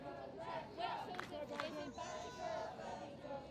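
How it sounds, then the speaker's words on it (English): Belgian supporters cheer at a youth touch rugby match, a steady wash of shouting and chatter from a crowd below, with voices rising and falling but no single standout roar. "Big cheers coming up from the Belgian crowd."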